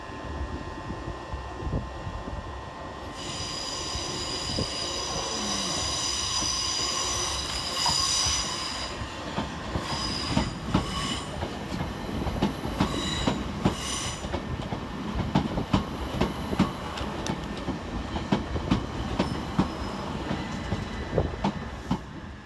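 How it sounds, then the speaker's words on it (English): Southern Railway electric unit 387211 pulls into Eastbourne station on the 1609 service from Ore to Brighton with a steady rumble. High wheel squeals and clicks come through as it slows at the platform, with no voices. "387211, arriving with the 1609 Southern Railway service from Orr to Brighton"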